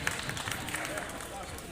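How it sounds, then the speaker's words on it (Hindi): A crowd claps at a pensioners' association event, a dense, continuous wash of applause heard throughout with voices mixed in. "जोरदार तालियों के साथ एक बार फिर"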